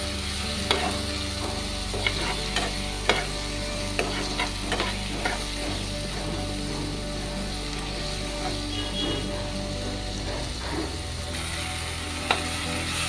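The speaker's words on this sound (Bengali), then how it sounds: "এখন আমি নাড়িয়ে নেব যতক্ষণ না টমেটোগুলো গলে যাচ্ছে।" A spoon stirs tomatoes with turmeric and spices in a pan for mosur dal, with scattered scraping clicks over a continuous sizzle and frying hiss; no talking.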